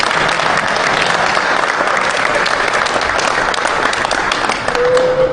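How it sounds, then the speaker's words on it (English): An audience at a televised Ghanaian morning event breaks into dense, sustained applause, many people clapping together loudly and evenly throughout, with no voices rising above it. "And clap for me."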